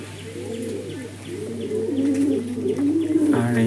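Several pigeons coo close by in soft, repeated throaty rolls, with a few faint chirps over a steady low hum.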